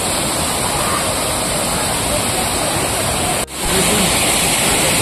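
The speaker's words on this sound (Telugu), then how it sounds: "వాటర్ చాలా పెద్దగా ఇక్కడికి వాటర్ ఫాల్స్ రూపంలో వస్తుంది." Large waterfall rushing over rocks in Mahabubabad, a loud, continuous, close roar of pouring water that briefly drops out near three and a half seconds before resuming.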